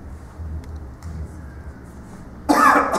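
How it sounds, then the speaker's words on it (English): A single short, harsh cough bursts out near the end, close and fairly loud, after a stretch of quiet low room noise. "Oh, sorry, I got a cough."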